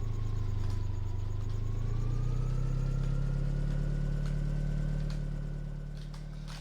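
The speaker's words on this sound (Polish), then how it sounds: "wyłącz te silnik" A vehicle engine in Farming Simulator 17 idles in a steady low drone with a faint rising whine above it, continuous and close, easing slightly toward the end.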